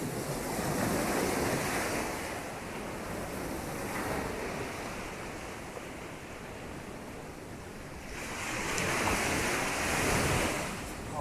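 Ocean surf rolls in on Freedom Beach near Patong, Phuket, with a steady wash of breaking waves that swells loudly at the start and again near the end, mixed with some wind noise on the microphone.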